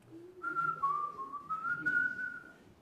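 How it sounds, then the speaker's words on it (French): A whistle is blown in a few sustained, shrill, steady tones that waver slightly in pitch, heard clearly with no talk over them. "C'est Elisabeth avec un sifflet"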